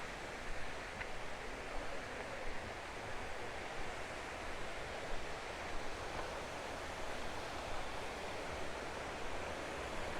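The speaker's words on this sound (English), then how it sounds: "You hear it? It's coming from down there. I can see all kinds of creek material down there. Water running." A creek near Lake Quinault in the Olympic National Forest rushes steadily in the distance, a faint, even wash of running water with no voices.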